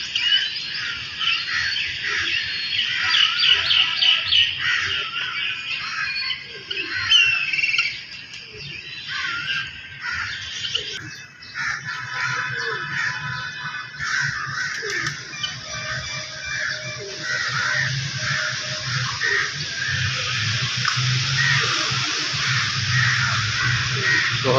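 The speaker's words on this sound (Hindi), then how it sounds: "ये हर परिंदे की अपनी आवाज़ है, इसमें मुख्तलिफ परिंदे हैं।" Many birds chatter and call at once in a dense, continuous chorus in a zoo aviary at Bahawalpur Zoo, with harsh caw-like cries standing out over a steady background of chirps.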